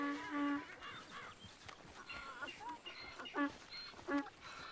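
A mule brays in Red Dead Redemption 2, a few harsh honking calls rising and falling in loud bursts against game ambience, with someone talking briefly in between.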